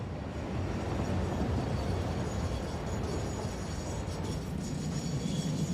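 An approaching train in the factory-building game Satisfactory, a steady broadband rumble with a rolling rail texture holding at an even, fairly loud level without break.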